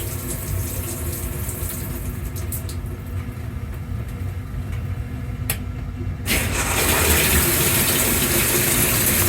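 A new washing machine fills with water, starting with a soft running hiss and then a louder gushing rush as the flow picks up after a few seconds. No one talks over it.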